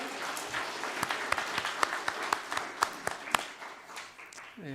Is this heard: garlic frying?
no